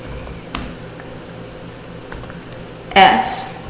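Computer keyboard typing while code is written, sparse light keystrokes followed by a louder burst of keys near the end, with a voice speaking in places.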